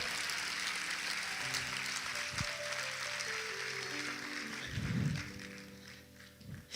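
A church congregation applauds during a sermon, a steady wash of clapping with sustained tones beneath it and a couple of louder swells near the end.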